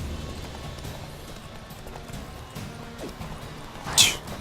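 Hooves of a horse gallop in The Witcher 3 in a soft, rhythmic clip-clop under ambient game noise, with a brief sharp burst near the end.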